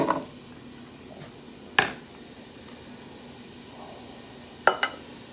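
Carrots dropped into a hot Ninja Foodi pot set on high, giving a soft continuous sizzle broken by a few sharp clacks and taps as pieces hit the pot.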